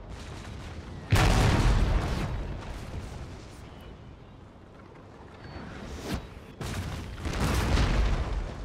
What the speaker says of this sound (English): Another horse train being ripped apart by the cannon.